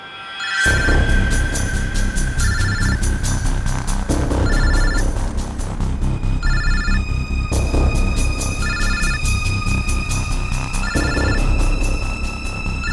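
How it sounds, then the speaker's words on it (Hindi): A mobile phone ringing loudly and continuously, its bright ringtone repeating in short regular bursts over a steady low background. "किसी का फोन बज रहा है सर।"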